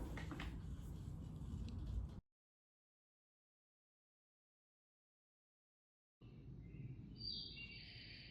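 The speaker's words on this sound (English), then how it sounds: "Listen to those birds." Birds chirp and sing outdoors amid steady background noise, cutting out to silence midway, then returning with brighter high-pitched calls.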